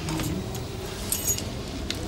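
Keys jangling as they are handed over between people in a Catalan TV drama scene: light metallic clinks against a low background rumble, faint and brief, with no talk.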